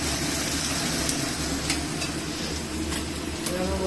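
Onions frying in a pan, a steady close sizzle with a constant low hum underneath and a few faint scraping touches, no voices.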